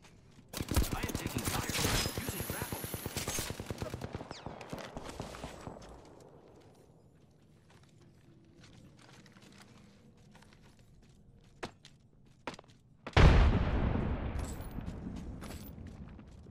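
Gunfire bursts from a battle royale video game, a dense volley of rapid shots at the start fading into quieter footsteps and movement, then another loud burst of firing near the end.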